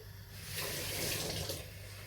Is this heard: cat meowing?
no